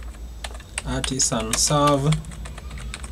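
Someone types a command on a computer keyboard, with quick clicking keystrokes going on beneath a voice as he talks.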